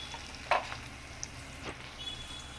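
Green chilies and peanuts fry in oil in a pan, a soft steady sizzle broken by a sharp clink of a spoon against the pan and a few quieter stirring taps, no speech.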